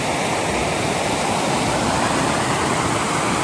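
A stream in Spearfish Canyon, South Dakota, rushes in a dense, steady wash of flowing water, close and loud, with no voices.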